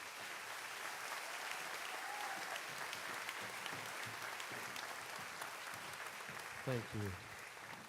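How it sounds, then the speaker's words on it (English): Audience applause for a school chorus at a middle school graduation ceremony, a faint, even spread of clapping from a distant crowd, with a brief spoken voice near the end. "Please give them a round of applause."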